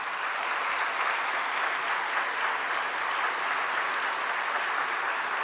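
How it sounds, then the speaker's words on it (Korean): A church audience at a Sunday evening service applauds steadily to welcome a well-known film translator, a dense, even wash of clapping that holds at constant loudness throughout. "박수로 환영해드리면 되겠습니다"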